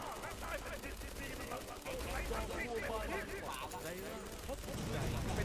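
Rapid gunfire from a shooting video game, brisk bursts of shots running steadily under excited talk throughout.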